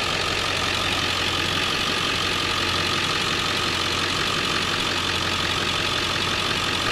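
A pickup truck engine idles steadily, a continuous close hum with a faint mechanical ticking, unchanging throughout and with no voices.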